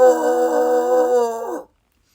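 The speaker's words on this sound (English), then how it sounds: "he tilted his head back and emitted a powerful, spine-tingling howl." A powerful, spine-tingling howl rings out as one sustained, loud, close tone for about a second and a half, then bends downward and cuts off into silence.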